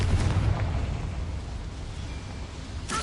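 A Confringo fire spell explodes in the game Hogwarts Legacy on PS5 with a heavy, rumbling boom that decays slowly into a roaring wash, then a brief sharp burst at the end.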